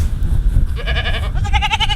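A goat on a homestead gives two short, nasal bleats in quick succession, close and clear over a rumbly outdoor background.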